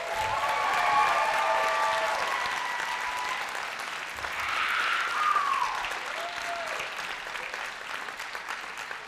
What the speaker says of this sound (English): Can we give one more massive round of applause to all of our dancers tonight?